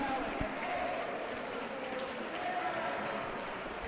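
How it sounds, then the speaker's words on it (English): Crowd applause for an injured roller derby skater at a live bout, a steady wash of clapping and cheering from the audience filling the whole stretch, with an announcer's voice over it. "Give him a round of applause."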